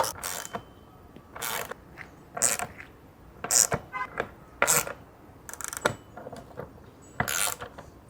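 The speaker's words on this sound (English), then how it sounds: "Once you got them all in there, then we can tighten them." A ratchet tightens bolts on the brackets of a 2022 Honda Trail 125 motorcycle. Close, crisp bursts of clicking come in short, irregular runs with pauses between them.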